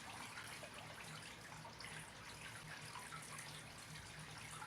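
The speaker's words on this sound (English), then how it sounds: "a decorative water feature" A decorative garden water feature beside a patio trickles steadily in a soft, continuous wash of water, even and unbroken from start to finish with no voices.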